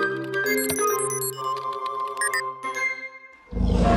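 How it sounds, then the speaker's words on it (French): Cartoon dinosaur roar effect: a busy layered musical jingle of tones gives way to a sudden loud, rough, low roar bursting in at the end. "Là, c'est le son d'un dinosaure."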